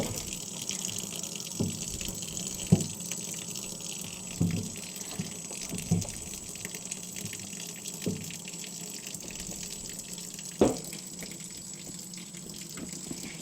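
Water is poured over leather boots to rinse off saddle soap, giving a faint ongoing trickle with several sharper splashes and knocks spaced a couple of seconds apart.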